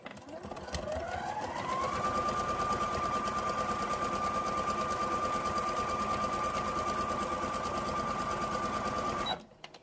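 A sewing machine stitches fabric on a gnome craft project, its motor spinning up and then holding a steady fast whirring stitch rhythm up close for several seconds before stopping.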